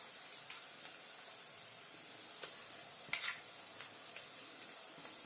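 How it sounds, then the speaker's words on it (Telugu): Onions and green chili-ginger paste frying in oil for restaurant-style egg biryani, a faint, steady sizzle with a few soft stirring scrapes and clicks, no voices. "ఈ పేస్ట్ కూడా బాగా వేగాలి నూనెలో ఉల్లిపాయలతో పాటు"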